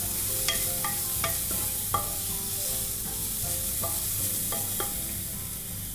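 Grated coconut stirred into half-cooked vegetables in a pan for wheat uppumavu: a soft continuous sizzle broken by several sharp clinks and scrapes of a spoon against the pan, close and without speech.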